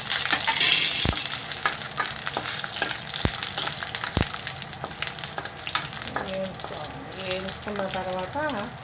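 Dried red chilies fry in oil for peanut chutney, giving a loud, busy crackle throughout, punctuated by sharp ladle taps against the pan and a few faint tonal squeaks near the end.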